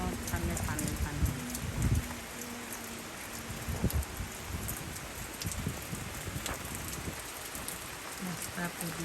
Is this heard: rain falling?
yes